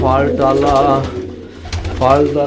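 Kasuri pigeons coo in deep, rolling, repeated calls close by, with someone speaking over them.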